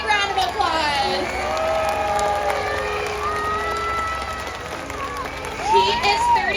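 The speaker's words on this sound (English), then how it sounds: "Can we give them a big round of applause?" A crowd at the SeaWorld San Diego Orca Encounter killer whale show applauds and cheers in a steady, loud wash of clapping and shouting that lasts throughout, with a voice faintly in the mix.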